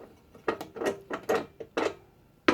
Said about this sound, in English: With the nuts removed, all we have to do is remove the index wheels